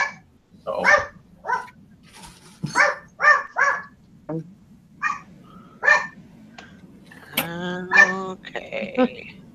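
A dog barks from a tablet's small speaker, a run of short yips and barks spaced irregularly, followed by a whimpering, whining tone near the end.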